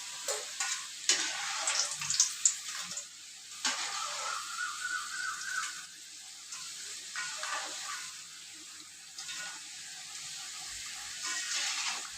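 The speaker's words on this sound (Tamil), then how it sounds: "இது மாதிரி தேய்ச்சி எண்ணெயில் போடணும்" Rolled, folded puri dough frying in oil over medium heat, a steady close sizzle and bubbling with small scraping stirs, alone with no voices.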